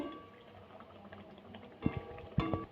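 Palm-fruit luchi, a puffed flatbread, frying in hot oil: a steady low bubbling sizzle that swells into two louder spattering bursts near the end, with no talking.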